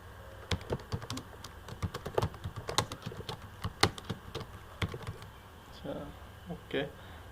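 Computer keyboard keys clack in quick, uneven bursts while a name is typed into a text box in Microsoft Word, close and crisp, with a short lull and a few soft clicks near the end and no talking.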